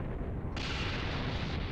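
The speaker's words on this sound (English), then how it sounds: "You were afraid of being caught in the explosion." An explosion in the Dragon Ball Xenoverse 2 video game erupts as a sudden loud burst of roaring noise that swells and holds, with no talking.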